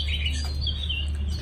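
A caged songbird kept at home in Hanoi gives thin, high chirps and tweets over a steady low hum, fairly close and with no voices.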